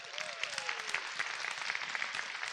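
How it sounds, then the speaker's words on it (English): Audience applause for guest speakers at a motivational lifestyle talk: steady, dense clapping filling the whole stretch, fairly distant and even, with no talking over it. "Give them a round of applause."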